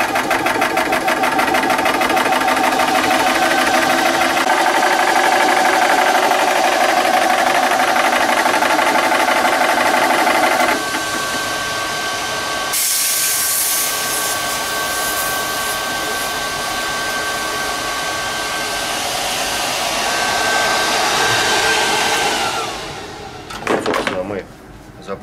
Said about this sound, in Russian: Работали вентиляторы и включаем наш компрессор.